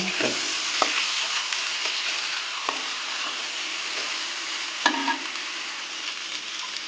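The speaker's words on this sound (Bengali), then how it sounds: "মাছগুলো নেড়ে চেড়ে ভালোভাবে কষে নেব" Pieces of tilapia fish fry in a pan with an even, continuous sizzle. A few sharp scrapes and knocks from stirring break through now and then, close and clear, with no voices.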